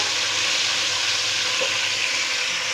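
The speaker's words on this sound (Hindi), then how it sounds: "मेथी दाने को थोड़ा सा ऑयल में फ्राई करते हैं ताकि अच्छी सी खुशबू आ जाए" Fenugreek seeds fry in hot oil in a pan, giving a loud, steady, close sizzle that holds unbroken throughout.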